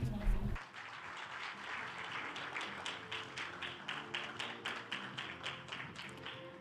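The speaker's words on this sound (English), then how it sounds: "Please give them both a big round of applause." Audience applause at a closing ceremony, a dense steady patter of many hands clapping that starts after a brief opening thump and runs on with slight pulsing at moderate loudness.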